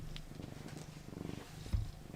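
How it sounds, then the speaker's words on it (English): A cat purring close by indoors, a soft continuous rhythmic rumble with a brief bump of handling noise near the end. "can you hear the purring?"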